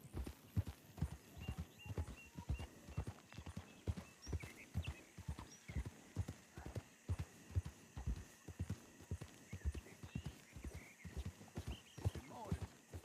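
Horses' hooves clip-clopping at a steady riding pace in a Wild West roleplay video game, a dense run of close, sharp hoofbeats lasting the whole stretch, with a faint whinny and low background hum.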